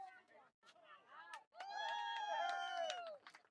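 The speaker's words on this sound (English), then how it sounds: "Somebody made a catch back there. The crowd cheers." Spectators at a softball game against St. Johns cheer a catch. Voices rise in a sustained burst of shouting and cheering after a few brief calls.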